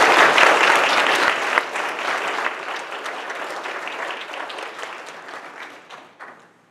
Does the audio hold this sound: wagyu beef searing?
no